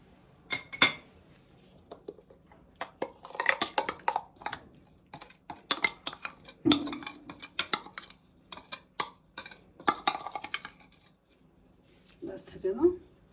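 Fried fish mixture for Alexandrian-style fried red mullet being spooned onto a plate, giving light clinks and taps of utensil against dish in scattered bursts, with a voice talking over it.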